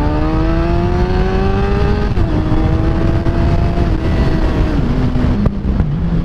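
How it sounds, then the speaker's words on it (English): A Suzuki GSXR 750 sport motorcycle rides close and loud, its engine droning and shifting pitch as it revs under acceleration, with a few sharp popping backfires near the end. "Oh, that backfired."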